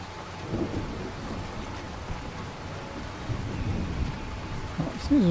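Steady heavy rain and rolling thunder from a video game storm fill the whole stretch, a dense continuous roar with deep rumbles that swell louder toward the end.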